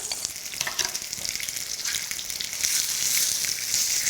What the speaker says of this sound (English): while that chicken is frying or browning up